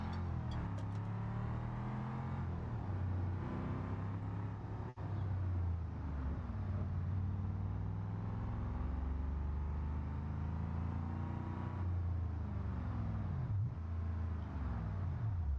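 A car engine in BeamNG.drive runs steadily as the car drives, with a continuous droning note that rises and falls gently with throttle and one brief sharp click partway through.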